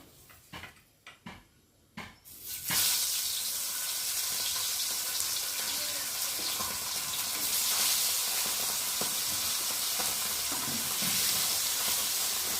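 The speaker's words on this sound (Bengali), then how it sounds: "আর এখন মাছগুলোকে ভাজবো।" Salted fish hits hot oil with a loud, broad hiss and a few crackles, then the frying settles into a steady sizzle.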